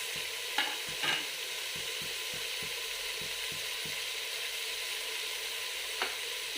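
Potatoes frying in a pan for sambar dal give a steady soft sizzle with a few faint clicks and taps, quiet and without talk.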